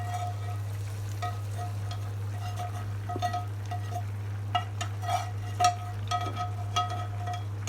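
Snakehead fish fries in oil in a pan in a home kitchen, a steady crackling sizzle with occasional utensil scrapes and clinks against the pan over a constant low hum.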